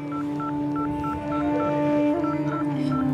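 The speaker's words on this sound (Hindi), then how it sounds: "मुझे आंटी को फोन मिला के" Someone dials a telephone number on a keypad: a quick, evenly spaced run of about ten short beeps, each one distinct, over a steady electrical hum and faint room noise.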